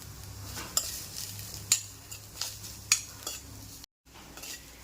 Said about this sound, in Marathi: एकसारखं हलवत तुपामध्ये नारळ आपल्याला चांगलं परतून घ्यायचं आहे